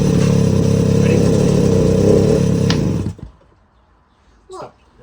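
Suzuki LT50 quad bike, a barn find, running loud and close for about three seconds before the engine cuts off abruptly, followed by near silence and a brief voice.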